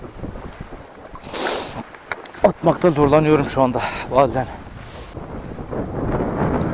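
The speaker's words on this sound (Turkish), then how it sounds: "Çok sert rüzgar esiyor." Strong wind gusting across the microphone at the sea during light lure fishing, a steady roaring rush under someone talking close by.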